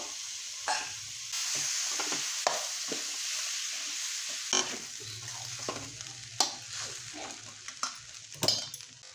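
Plain cooked rice, not basmati, goes into a hot pan for cauliflower manchurian fried rice and is stir-fried: a steady close sizzle runs throughout, broken by repeated scraping and clattering strokes of a spoon against the pan, with no voices.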